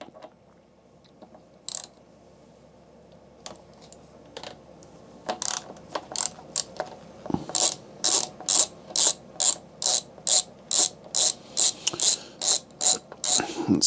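A ratchet loosens the bottom bolt of the rear shock on a Specialized Turbo Levo e-bike. A few scattered clicks and handling sounds lead into a steady run of loud, rhythmic ratcheting bursts, close up with no talking.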